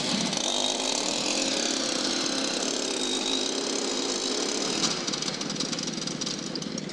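A motorcycle engine idles steadily after being started at an indoor motorcycle show in Lyon. It is a close, continuous mechanical rumble with a slight change near the end.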